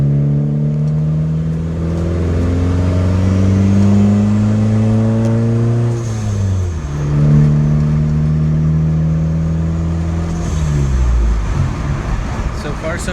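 A repaired car pulling away on a test drive, its engine revving up through gear changes with rising and falling tones, steady and close throughout the run.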